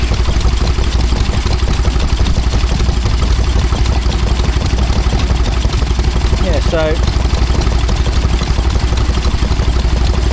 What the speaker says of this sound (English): Very much a petrol engine